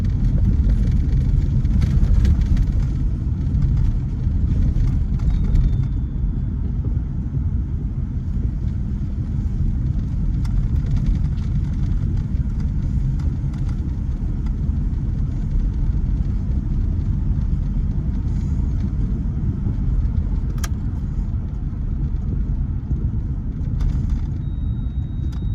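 A Chrysler Fifth Avenue cruises along a quiet, empty road, its engine and road noise a steady, loud low rumble from inside the cabin with no talking.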